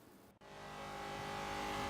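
Ford Falcon V8 Supercar in Forza Horizon 3 accelerating hard on a street, a brief cut then a loud, steadily rising engine roar that builds continuously to the end.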